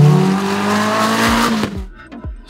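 Spartan track car with a strengthened 2.4-litre Honda K-series engine, loud and close, its engine note climbing under hard acceleration before cutting back in a couple of sharp gear-change blips.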